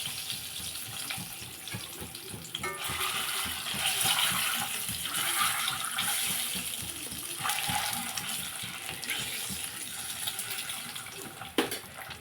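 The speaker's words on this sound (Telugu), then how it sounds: "ఆయిల్ హీట్ ఎక్కింది కదండి, ఇందులో గుడ్లు వేసుకుందాం." Eggs dropped into hot oil for a spinach, potato and egg curry: a continuous loud sizzle and hiss, close and steady for the whole stretch, with a sharp tap near the end and no voices.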